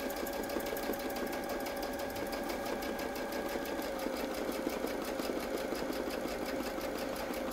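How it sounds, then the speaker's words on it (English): A sewing machine stitches fabric guided by a ruler template, running in a continuous fast, even mechanical patter at moderate, close volume with no pauses. "And sew the next one."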